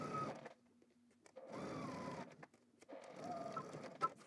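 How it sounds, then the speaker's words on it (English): A sewing machine stitches a utility jacket lining in short, quiet bursts, whirring on and off with brief pauses between runs. "So let's head to the machine and do both of our stitches."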